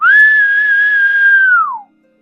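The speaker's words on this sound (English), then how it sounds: "they heard a shrill whistle from the reeds" A single shrill whistle sounds from the reeds of a marsh. It is loud and steady and holds for almost two seconds, then bends downward and cuts off.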